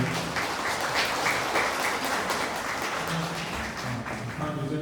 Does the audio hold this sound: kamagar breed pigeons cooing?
no